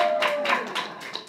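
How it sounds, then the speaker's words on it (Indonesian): An audience at a public forum in Indonesia gives a brief burst of hand clapping that welcomes a guest speaker. It comes as a quick run of separate claps at moderate volume. "Kasih tepuk tangan dulu dong buat Mbak Neneng."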